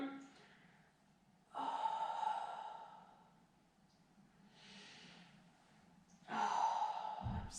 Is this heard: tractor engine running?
no